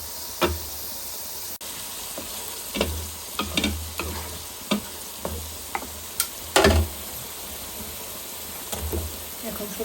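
Potatoes frying with spice masala in a pan for a Rui fish and cauliflower curry, giving a steady sizzle broken by scattered scraping stirs and clinks throughout.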